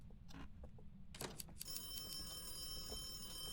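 Phone ringing in the video game Phasmophobia, a steady ringing tone that starts about one and a half seconds in and continues to the end, heard over low background rumble.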